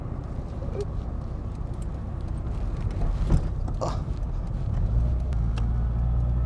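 Steady road and engine noise from a Rover Mini cruising in third gear at 60 km/h, a continuous low rumble with a faint bump midway and no talking.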